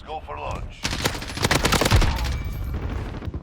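Assault rifle fire in Call of Duty Warzone, loud sustained automatic bursts with rapid crackling shots and echoing tails, briefly preceded by quieter game sounds.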